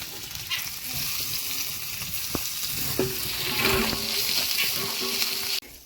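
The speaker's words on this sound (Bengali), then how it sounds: "দাঁড়াও, আদাটা তেলে মারি তারপরে।" Ginger sizzling in hot oil for a fish curry, a steady close crackle and hiss with a few sharp pops, low talk faintly mixed in.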